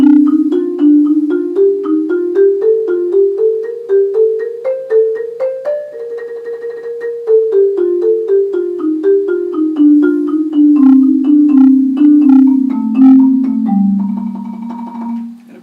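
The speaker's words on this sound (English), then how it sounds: "Another way that you can run through your scales is going up in a sequence of 4 notes." A mallet keyboard instrument runs a scale in overlapping groups of four notes, climbing steadily and then descending, each struck tone ringing briefly; clear, close and even in tempo, with no voices.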